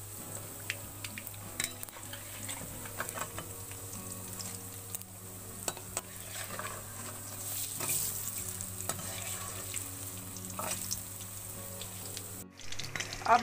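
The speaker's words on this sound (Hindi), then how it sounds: "अब मैंने इनकी दूसरी साइड भी फ्राई कर ली" Mutton tripe pakora fry in oil, a faint, steady crackling sizzle with scattered pops and some clinking, ending with a brief clatter; no voices are heard.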